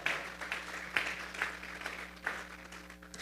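A church congregation applauds together, a sustained wash of clapping with occasional sharper peaks over a low steady hum in the hall.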